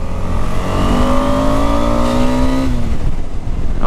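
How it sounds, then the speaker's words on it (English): A motorcycle accelerates hard in second gear, engine pitch climbing steadily and loudly up close for about two seconds before the revs drop off. "let me check the acceleration in second gear"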